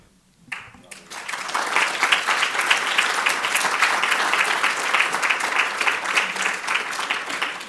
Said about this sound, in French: Est-ce qu'on peut vraiment vous applaudir?